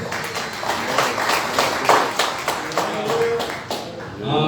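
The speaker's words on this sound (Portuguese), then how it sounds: "Você pode aplaudir o nome do Senhor?" Worshippers at a healing and worship service clap in church, a rhythmic run of distinct claps in a steady beat, fairly close, with a voice joining near the end.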